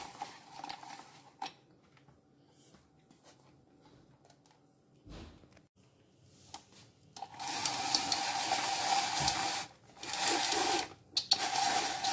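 A kitchen blender purees courgettes for a zucchini pasta sauce, starting with quiet stops and taps and then running in loud whirring bursts with brief pauses.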